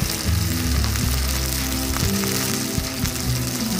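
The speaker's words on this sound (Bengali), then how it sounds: "এখন এর মাঝে আমি কষানোর জন্য অল্প করে পানি দিয়ে দিচ্ছি" Spices for a Bangladeshi-style shing catfish curry sizzle loudly in a pan just after a little water is added, a dense, close, continuous crackling hiss with low bubbling underneath.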